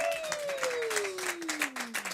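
Audience applause at a live folk-music show, a steady wash of clapping from a crowd with a sustained tone gliding downward through it.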